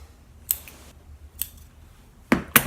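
Scissors snipping paper for a handmade graduation card: four short, crisp cuts spaced apart, close and clear against a quiet background.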